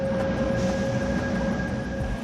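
A subway train at a crowded metro station in the Seoul area gives a steady rumble with a high, constant whine, heard at moderate volume with no speech over it.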